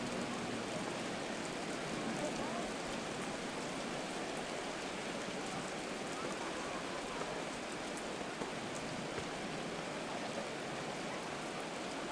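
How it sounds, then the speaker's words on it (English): Steady rain in a Madden 24 football game, a dense continuous hiss of falling drops that stays even and fairly loud from start to finish with no voices. "The rain set to continue as we are underway in the second half."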